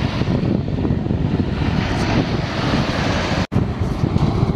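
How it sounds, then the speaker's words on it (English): Strong wind buffets the microphone on a South Carolina beach, a continuous loud, rumbling roar with gusty fluctuations and one brief dropout, no voices heard. "the wind's blowing pretty good"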